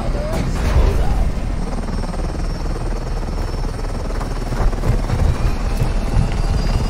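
A helicopter in the video game Fortnite keeps up a loud, continuous low rotor drone, with scattered sharp game noises briefly punctuating the steady roar.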